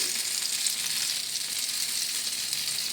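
Stuffed baby eggplants fry in spiced masala in a pan with a steady, close, even sizzle that holds throughout, with no voices.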